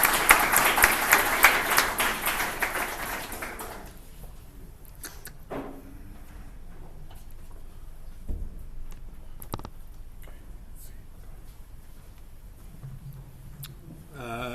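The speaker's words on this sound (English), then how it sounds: "Let's give a round of applause to Aaron." A conference audience applauds for a few seconds, a dense burst of clapping that quickly dies away into a quiet room with scattered small knocks and shuffles.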